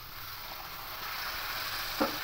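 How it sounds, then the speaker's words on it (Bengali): Masala for a yogurt egg curry, with salt and a splash of water added, sizzles steadily in a pan, a close, even frying hiss with a brief scrape of stirring near the end. "এবার মশলাটা খুব ভালো করে কষে নেব।"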